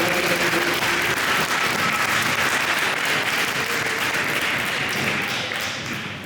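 A junior high winter band concert audience gives loud, sustained applause, dense clapping filling the room without pause and tapering slightly at the very end.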